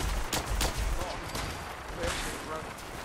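Gunfire in Fallout 4 during a battle at Boston Airport: a few sharp shots up front, then steady background combat noise under someone talking.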